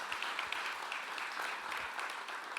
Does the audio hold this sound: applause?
yes